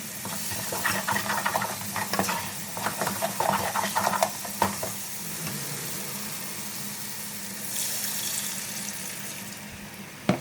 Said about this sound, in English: just added the thickener to it and I'm frying it at the same time